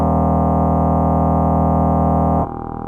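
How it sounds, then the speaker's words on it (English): Synth tone processed through a freeverb reverb effect sustains as a dense, buzzy harmonic drone, then abruptly drops to a quieter, thinner reverberant tail near the end. "This is commonly called freeverb these days."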